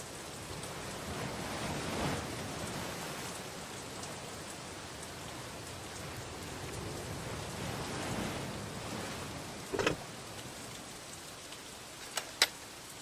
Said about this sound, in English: At least I'm not the one standing in the rain the whole day.